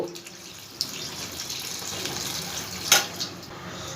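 Water used to rinse the spices poured over boiled potatoes in a cooking pot, a soft continuous trickling splash with a couple of light clinks, close by and without speech.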